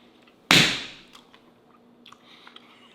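A single sharp, loud crunch of a bite into an air-fried carrot, close to the ear, fading into faint chewing and quiet room tone.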